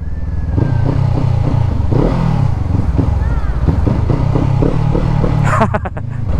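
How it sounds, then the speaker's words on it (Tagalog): A motorcycle ridden along a winding mountain road between Ilocos Norte and Abra, its engine droning steadily with shifting revs and some rattling clatter, loud and close, with voices talking over it. "Hindi mo maingay yung motor natin kahit bombahin ko ng bombahin to."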